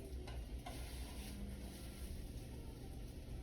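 Bread, egg and sausage rolls frying on very low heat in a pan, giving a steady, soft sizzle that runs on without a break. It is close but quiet, and no one speaks.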